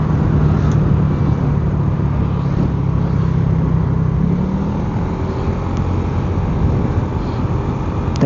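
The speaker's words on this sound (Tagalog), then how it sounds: "Okay na yung malakas yung hangin kaysa sa sobrang init naman." Strong wind rushes past a motorcycle on a long, hot summer road in Taiwan at about 45, a loud, unbroken roar over a low engine drone that holds steady throughout.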